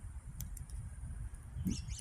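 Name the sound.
bird calling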